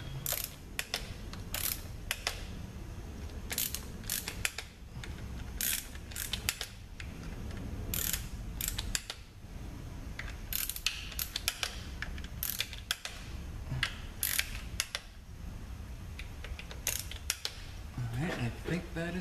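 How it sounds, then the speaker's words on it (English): Torque wrench tightening valve body bolts on a ZF6HP26 automatic transmission: rapid ratcheting clicks in repeated bursts, close and moderately loud, mixed with mechanical clatter, running through the whole stretch. "I'm gonna torque these down about 85 inch pounds"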